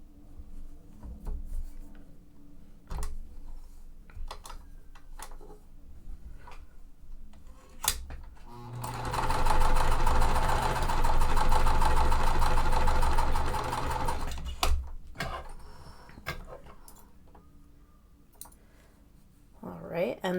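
A sewing machine stitches quilt pieces in one sustained whirring run of a few seconds near the middle, framed by quieter clicks, fabric handling and a person talking before and after.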